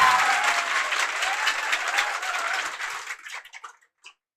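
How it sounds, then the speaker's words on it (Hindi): Classroom audience applauding the institute's first student to become a police sub-inspector, loud dense clapping that holds steady for about three seconds, then thins into a few scattered last claps before falling silent. "इनके लिए एक बार जोर से ताली होना चाहिए"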